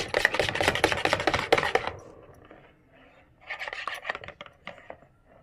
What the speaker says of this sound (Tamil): முட்டையை நல்லா பீட் பண்ணியாச்சு